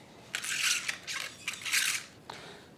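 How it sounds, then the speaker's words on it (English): Short hissing bursts from an avocado oil aerosol cooking spray into muffin liners, about four quick sprays close up, separated by brief pauses. "I'm using avocado spray."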